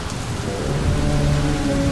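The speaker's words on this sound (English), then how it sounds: "a great storm was raging outside" A heavy storm rages outside, with steady dense rain pouring down and low rumbling thunder rolling underneath, loud and continuous without any voices.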